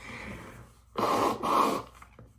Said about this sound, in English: I just gently blow my nose.